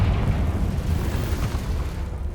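A Confringo fire spell detonates in the Hogwarts Legacy video game, a dense, rumbling low blast that stays loud and steady for the whole stretch without easing off.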